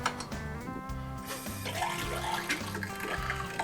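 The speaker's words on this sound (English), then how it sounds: "I will now turn it back on and turn on a little bit of cold water." Water runs from an RV faucet, a continuous splashing flow with gurgling and sputtering of air in the line over a rhythmic low pumping hum, fairly quiet and close.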